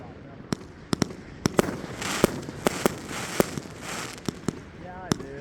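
A Great America 25-shot consumer firework cake at a backyard family show, firing a string of sharp, irregularly spaced reports with crackling between bursts, heard from moderate distance while people talk in the background.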